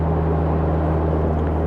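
Austin-Healey Bugeye Sprite coasting downhill off the throttle at about 2,500 RPM under engine braking, a steady low droning engine hum with wind and road noise, continuous and loud throughout.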